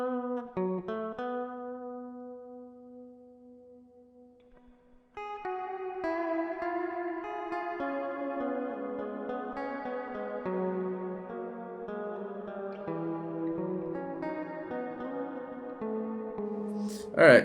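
Electric guitar noodling drenched in reverb: a few picked notes ring out and decay, a short pause, then a steady run of melodic notes with lingering echoey tails, close and clear with no talking.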